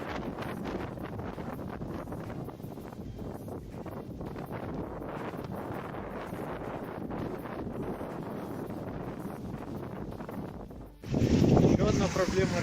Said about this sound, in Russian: Еще одна проблема, ребята, это ветер.